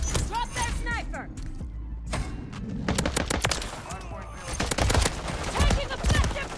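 Rapid automatic gunfire from an MTZ 556 rifle in Call of Duty MW3, loud bursts of shots with in-game effects, starting strong, pausing briefly, then resuming in dense repeated bursts.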